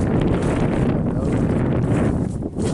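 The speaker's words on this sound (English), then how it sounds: "Oh, we got the wind going." Strong wind blows across the microphone in a permaculture food forest garden in winter, a loud, continuous low roar and buffeting with no talk.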